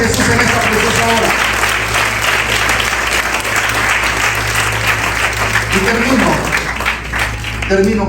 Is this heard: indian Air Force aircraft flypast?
no